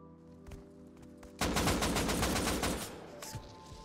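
Rapid automatic gunfire in the survival game Rust, a dense sustained burst of shots after a few scattered earlier pops, loud and close, then tapering off.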